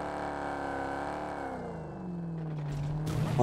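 A car engine drives in the video game Fortnite, its harmonic whine sliding down in pitch and then rising again in a rev toward the end, heard alone without talk.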